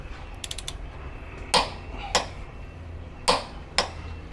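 A wrench tightens recovery point bolts on a Toyota Prado 150 with a few close ratcheting clicks, followed by four separate sharp metallic clanks spaced about half a second to a second apart.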